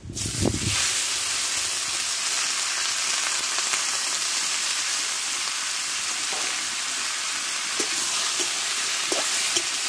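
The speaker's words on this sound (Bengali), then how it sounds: "দেখো কড়াটা গরম হয়ে গেছে, আমি তেলটা দিয়ে দেবো। দিয়ে শসাগুলোকে আমি দিয়ে দেবো এই তেলে।" Cucumbers hitting hot oil in a heated wok set up a burst of sizzling, then a loud, steady, dense crackle that continues throughout, with occasional small pops and no talking.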